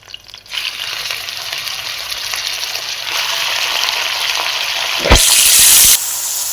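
Chicken dropped into hot oil with chillies and curry leaves sizzles and fries loudly and steadily, swelling into a sharper, hissing burst near the end with no talking.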